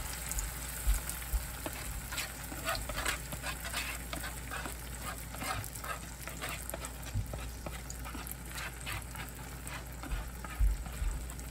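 An omelette frying in a tablespoon of oil gives a steady, quiet sizzle with soft crackles and occasional light taps of a utensil, close by over a low background hum.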